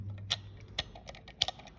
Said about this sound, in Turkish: numaratörlerle çevirerek açık hale getirdim